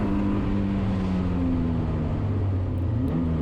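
A K-swapped 1990 Mazda Miata race car downshifting on a track, its engine droning loud and steady from inside the cabin, the pitch sliding down as the gear drops into second.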